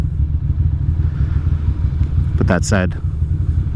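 A Ducati Monster 620 motorcycle rumbles steadily in the foreground on a Brooklyn street as it's ridden, its low engine drone continuous throughout, with a brief spoken phrase near the end.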